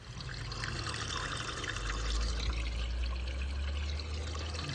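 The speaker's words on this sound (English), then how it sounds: "Oh, we got water in the gutters. So first thing I'm going to do is pop the drains." Water drains steadily from gutters after the drains are opened, a continuous close pouring and trickling flow with a low rumble underneath.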